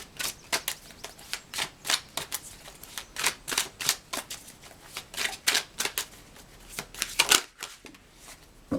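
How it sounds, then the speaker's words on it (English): Tarot cards being shuffled, a steady run of crisp papery riffles and flicks, close and fairly loud, with a brief pause near the end before one more flick, no talk. "let's get some tarot cards,"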